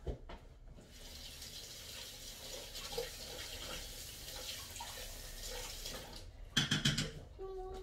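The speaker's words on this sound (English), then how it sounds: "Let's rinse your spoon off." Kitchen tap water runs steadily while a spoon is rinsed, a continuous splashing stream that stops abruptly, followed by a few sharp clinks of the metal spoon.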